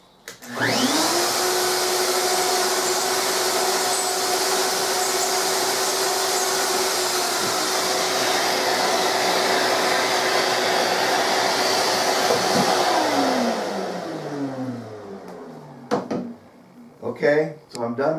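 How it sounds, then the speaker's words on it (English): An electric router hollows out a wooden mortise for a bowtie inlay with a loud, steady, close whine for about thirteen seconds, then spins down, followed by a few clattering handling knocks. "as I route out this whole inside of this, it will"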